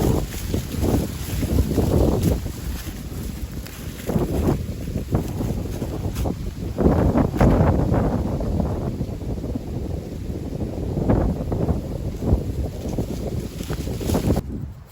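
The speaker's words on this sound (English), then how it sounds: "With the wind being this strong right now, left to right" Strong 15 mph wind, blowing left to right across a disc golf course, pummels the microphone with a steady, loud, roaring rumble that surges and dips in gusts throughout.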